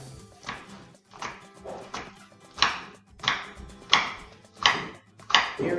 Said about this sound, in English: we're just going to open up the food processor, and we have green onions here that we're going to finely chop